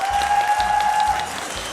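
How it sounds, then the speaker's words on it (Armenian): Studio audience applause for the commentators on an Armenian TV game show, a steady clatter of clapping that holds through the clip with a tone sounding over the first part. "Գնացինք ծափարություններով"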